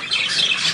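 A bird squawks close by in a short, harsh, raspy burst that wavers briefly before fading.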